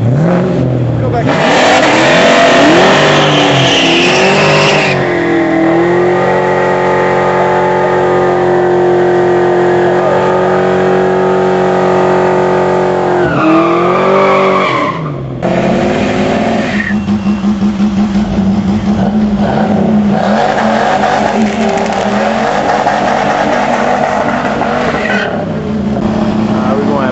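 Subaru WRX and STI cars launching side by side at a drag race, engines revving hard with rising and shifting tones, loud and close, then a brief drop before another roaring surge, with voices talking over the engines.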